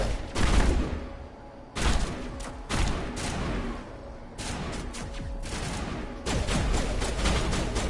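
Rapid gunfire and heavy explosions from the Mass Effect video game boom in dense, overlapping bursts, several loud blasts rolling one after another with no voices.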